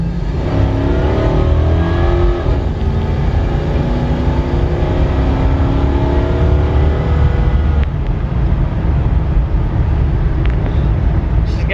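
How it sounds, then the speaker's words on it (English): A 1996 Chevy Caprice engine revs up and accelerates, its pitch climbing repeatedly through the gears, loud and close with steady road and wind noise. "Now I'll give it some gas."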